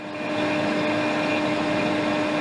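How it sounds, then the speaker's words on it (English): A steady electric fume extractor fan whirs with a constant hum and broad airy whoosh, close and unchanging throughout. "This is the sound of fume extractor."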